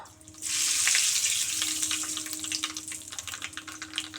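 Nigella seeds hit hot mustard-fish frying oil in a pan, bursting into a loud, bright sizzle that starts abruptly and keeps crackling and spitting steadily, close and alone.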